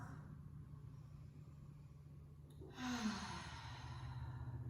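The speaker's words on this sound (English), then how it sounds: "Take a deep inhale through your nose, exhale through your mouth." A deep breath drawn in through the nose, then a louder breathy exhale through the mouth, heard close over a low background rumble.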